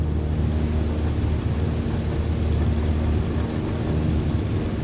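An aircraft engine at full power during the takeoff roll in Microsoft Flight Simulator makes a steady, loud, low droning rumble that holds an even level throughout, heard alone with no talking.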